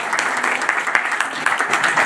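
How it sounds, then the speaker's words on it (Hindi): Audience applause at a university convocation ceremony in Indore, a dense steady patter of many hands clapping throughout, moderately loud and continuous with no speech over it. "प्लीज तालियों से स्वागत करिए।"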